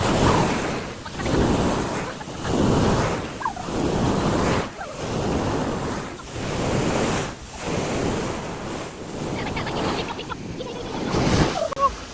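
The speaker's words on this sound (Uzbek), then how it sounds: "Daryo to'lqin suvlar." River waves surge and wash in repeatedly in rolling swells, loud and close, with wind noise over the microphone.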